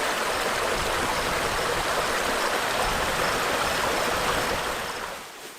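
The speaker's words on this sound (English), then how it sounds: "We got this cool little creek to listen to from our campsite." A small creek near a French River campsite rushes and babbles in a continuous, fairly loud wash of flowing water that fades slightly at the very end.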